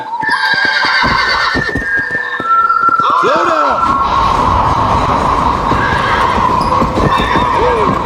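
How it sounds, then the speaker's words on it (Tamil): In the video game Red Dead Redemption, a horse gallops with a fast, continuous clip-clop of hooves and gives loud whinnies and neighs, with someone talking over the game sound. "நல்லா எகிடுதுப்பா குதிரை."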